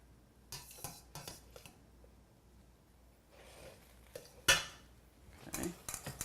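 Pasta and vegetables tumble into a pan of creamy garlic sauce with shrimp, giving soft wet squishes, clinks of utensils against metal and a sharp knock, in short irregular bursts with quiet gaps between.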